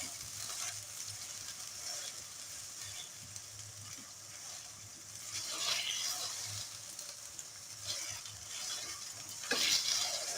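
Mutton keema with tomatoes and green chillies cooking in a pan, a steady soft sizzle with occasional stirring scrapes and brief louder clatters, no talking.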